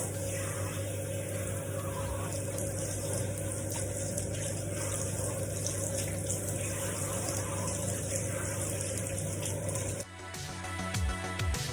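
Water running steadily to rinse rice water out of hair, a constant close rushing stream with a fixed hum underneath that stops abruptly near the end.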